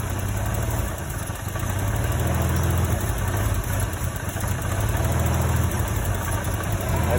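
A Holden VL Commodore engine runs at a steady idle, a loud close rumble with a slightly uneven beat holding throughout.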